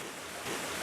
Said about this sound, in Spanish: ¿Ves cómo van echando el agua